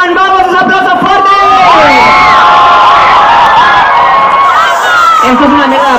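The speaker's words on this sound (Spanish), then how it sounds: "un aplauso fuerte" A large, packed audience at a Madrid event in 2012 erupts loudly for a performer, with sustained dense cheering and high-pitched shrieks that never let up.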